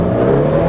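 A Nissan 300ZX engine held at a steady, loud rev during a launch attempt, producing a continuous droning growl with no talk over it.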